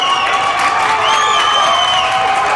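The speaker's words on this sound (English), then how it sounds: "this crowd is loving the effort that the Rams have given them tonight" An arena crowd at a college ice hockey game between CSU and CU cheers, whoops and applauds in a dense, loud, continuous roar with individual shouts rising above it.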